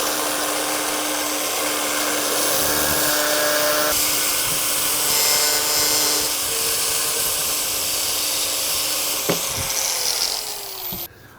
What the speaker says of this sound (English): So grab whatever cutting tool you like to use.